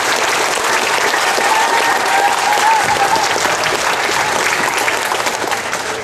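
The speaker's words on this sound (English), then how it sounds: "let's give her a round of applause" An audience at a high school awards night gives a full, steady round of applause that holds at an even loudness throughout, with a faint voice briefly audible within the crowd.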